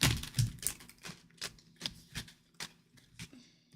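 A deck of cards is shuffled by hand, giving a series of crisp riffling and tapping bursts at an uneven pace, close and quiet with no speech.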